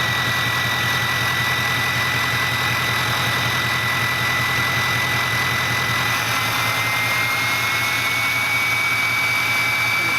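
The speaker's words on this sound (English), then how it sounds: "now, see, it's gonna spool up and then let off on idle" A Ford Powerstroke 6.0 diesel idles steadily and close by, its turbo whine rising and easing as it spools up and down, with no talking.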